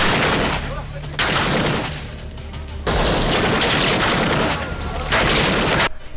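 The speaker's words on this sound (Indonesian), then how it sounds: "Mereka pun langsung menembak ke arah hutan." Heavy gunfire from a group shooting into a forest in the 1993 film Sniper, dense overlapping volleys and booms rolling on continuously, loud and close, with brief lulls between bursts.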